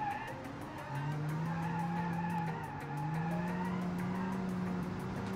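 Tires squeal and skid on a front-wheel-drive 1982 GTI-style car without ABS or traction aids in the game Automation, a long screeching slide over a steady engine drone, loud and close, with no talk.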